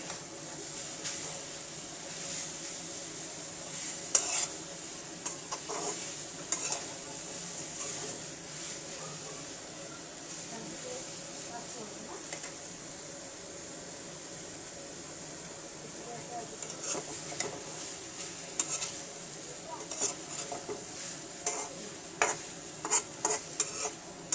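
Boiled papaya fries in a pan and is stirred, giving a steady close sizzle with repeated scraping and clinking from the spatula throughout.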